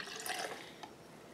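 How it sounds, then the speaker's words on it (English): Milk trickles from a cup into a small homemade macchiato, a soft, close liquid pour with a faint splash, quiet and brief with no talking. "we're going to go ahead and pour this in"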